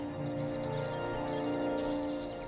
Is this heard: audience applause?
no